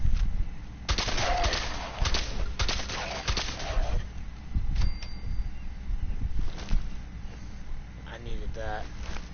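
An automatic laser pistol in Fallout 4 fires several rapid bursts of sharp zapping shots over the first few seconds, then sporadic single shots, with a voice briefly speaking near the end.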